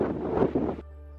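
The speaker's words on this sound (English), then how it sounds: "hopefully this wind dies down a little" Desert wind on the Pacific Crest Trail buffets the microphone as a loud, broad roaring rush for most of the moment, then cuts off abruptly to a quiet, steady hum.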